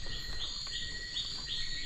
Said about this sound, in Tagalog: May ibon pong nahuni oh.